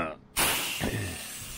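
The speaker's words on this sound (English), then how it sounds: "Just gonna spray the bricks a little bit" A pressure washer's sudden hissing spray bursts in after a brief quiet and continues steadily against a house's brick wall, with a short swishing shift partway through.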